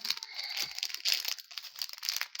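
Crinkly plastic being ripped and crumpled up close, a continuous bright rustling with a few sharper tearing bursts.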